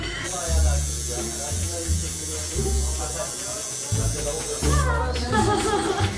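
A tattoo machine buzzes steadily throughout a first-tattoo session, a continuous electric hum that pulses slightly in strength, with people talking over it.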